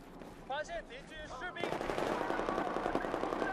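Rapid automatic weapon fire in the Battlefield 4 video game, a dense continuous burst of gunshots that starts abruptly partway through, following a few short electronic game tones.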